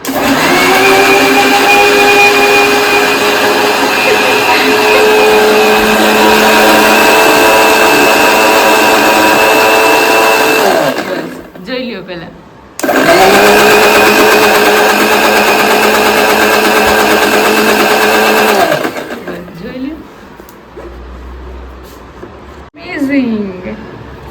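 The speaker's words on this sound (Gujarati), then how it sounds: "ચાલો જો મિક્સરનું ઉદઘાટન કરીએ" A new mixer grinder motor whirs loudly with a steady high whine, runs for about ten seconds, winds down, then runs again and spins down to a stop.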